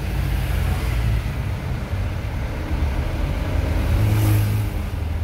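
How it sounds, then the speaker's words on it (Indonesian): Dense traffic crawling through a jam in Canggu, Bali, a steady low engine rumble from cars and motorbikes with a brief engine rev near the end, no talking. "Emang dari dulu itu daerah Canggu macet."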